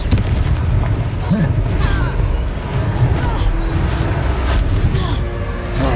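A Confringo blast spell explodes in the Hogwarts Legacy video game: dense, loud booming and crackling blasts roll over one another continuously amid busy game noise.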